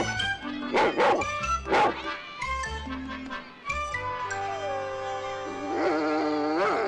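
Raffles the dog barks and yips in several sharp, close bursts, then lets out rising whimpering whines toward the end.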